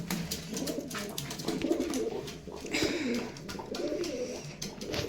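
Pigeons coo steadily in a pigeon loft, with soft, repeated throaty calls overlapping close by, accompanied by faint fluttering and rustling.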